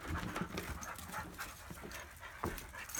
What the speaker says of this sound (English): This is Ghost the dog and Bobo the dog.